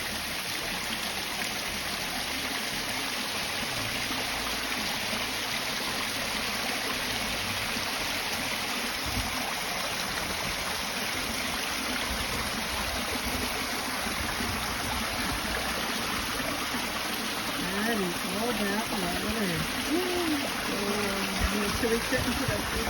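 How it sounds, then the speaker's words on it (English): Fresh mountain water rushes continuously down a stream fed by a waterfall and small glaciers, a close, steady broadband gush, with voices briefly audible toward the end. "up above it was a beautiful waterfall with some little mini glaciers"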